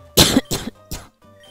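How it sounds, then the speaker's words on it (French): Three harsh coughs close to the microphone in quick succession, followed by a faint throat-clearing rasp. "J'en ai marre de tousser."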